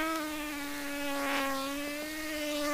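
A voice imitates a fly with a sustained, high, nasal buzz made through tight lips, steady and close, with a slight wavering in pitch.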